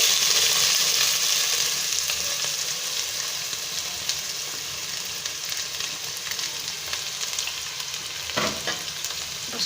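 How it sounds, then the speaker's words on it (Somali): Onions sizzle and fry in a pot while being stirred, a steady close crackling hiss with occasional scraping and louder spits. "basashada ayaan shiil doonaa"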